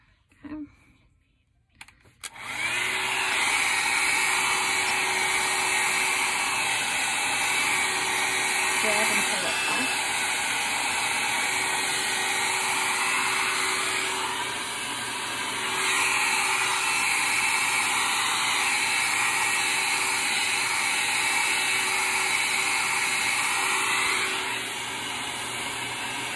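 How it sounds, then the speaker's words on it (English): A hair dryer running on high blows steadily while sections of hair are dried, a loud, close, continuous whooshing whir lasting over twenty seconds after a brief start, with small shifts in tone as it moves. "I'm doing these sections and blow drying them on high right now."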